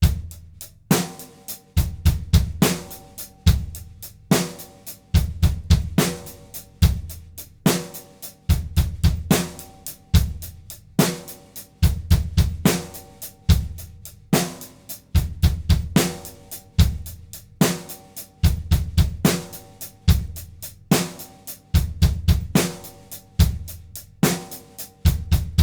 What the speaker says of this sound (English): In number 7, we're going to play all 3 notes of a triplet with our bass drum on beat